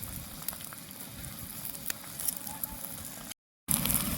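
Onions and green chillies frying in a pan for an omelette at an outdoor campsite, a steady close sizzle with crackles, briefly cut out near the end.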